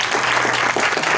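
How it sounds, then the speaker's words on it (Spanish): Steady applause from guests at a quinceañera celebration, a dense wash of clapping filling the room without pause; a faint background tone sits underneath. "Fuerte los aplausos y fuerte, más fuerte los aplausos para esta linda familia"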